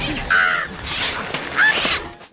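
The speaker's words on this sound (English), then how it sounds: "he was disturbed by a flock of crows that disrupted his work" Crows from a flock caw in two loud, harsh calls close by, with fainter cawing and a rustle between them.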